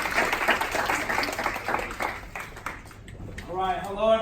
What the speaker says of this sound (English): why don't we give him a round of applause?